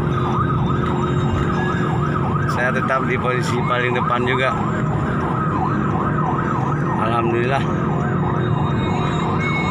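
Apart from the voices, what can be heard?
siren of ambulance escorted by police motorcycles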